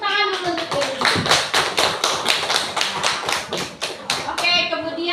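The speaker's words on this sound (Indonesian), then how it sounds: "Tepuk tangan dulu" A group of children clap their hands in a classroom in quick, uneven bursts of sharp slaps, close by, with a voice briefly heard at the start and end.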